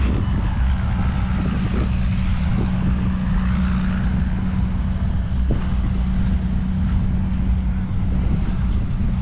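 T-6 propeller aircraft drone steadily overhead, a loud continuous engine roar with wind noise hitting the microphone.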